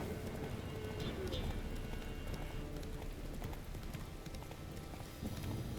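Horse hooves clip-clop in a steady galloping rhythm across The Witcher 3 open-world game, close and continuous beneath someone speaking, with busy background game ambience throughout.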